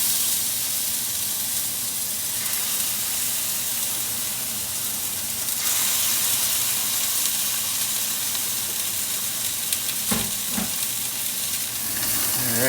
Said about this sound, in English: Now your skillet's nice and hot. You're going to drop in these steaks for about a minute to a minute and a half each side.